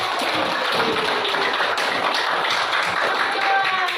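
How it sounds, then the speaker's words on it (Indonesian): Steady applause fills a classroom for a presenting student group, a dense, continuous patter of many hands clapping at even loudness throughout, with no voices standing out. "Kasih aplaus dulu untuk kelompok"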